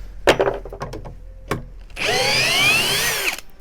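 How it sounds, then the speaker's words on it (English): A Parkside Performance 20V brushless cordless drill, model PABSP 20-Li C2, set to second gear, undoes screws: a few knocking clicks, then a close, steady motor whine lasting about a second and a half. "Now I'll switch it to the second gear to undo these screws completely."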